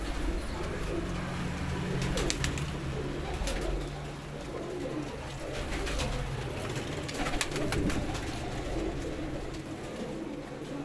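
Several Teddy pigeons kept in pairs coo softly in a loft in Faisalabad, a low, steady murmur of overlapping coos with a few faint higher chirps, fairly distant and continuous.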